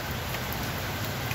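Rain falls in a steady, fairly faint patter and hiss throughout, even in level and with no voices.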